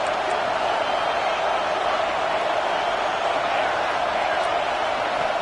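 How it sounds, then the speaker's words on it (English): A stadium crowd at a football game roars in a dense, unbroken wash of noise that holds at an even level throughout. "this crowd trying to help keep them there"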